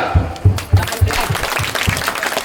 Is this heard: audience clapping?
yes